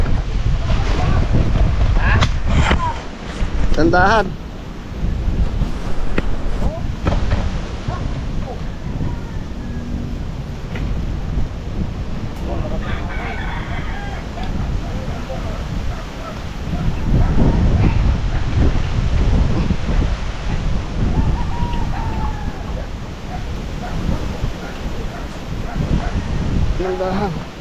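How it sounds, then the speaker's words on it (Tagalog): Strong wind gusts around a construction site where workers build forms for a concrete post, a loud, rumbling roar that rises and falls over the whole stretch, with people talking now and then. "malakas yung hangin"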